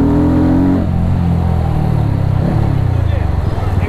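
Motorcycle ride at night: a steady, loud engine drone runs throughout, rising briefly near the start, with road and wind noise heavy underneath.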